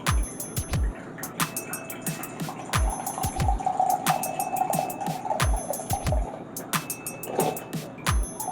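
Liquid is poured slowly into a soup pot of potato broccoli cheddar soup, giving a soft trickle, with repeated knocks and taps from handling and stirring on top.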